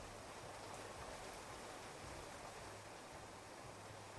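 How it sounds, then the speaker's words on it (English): Rain ambience in the video game Clanfolk plays as a faint, steady hiss of falling rain with no distinct drops or other sounds. "Rain sounds sleepy."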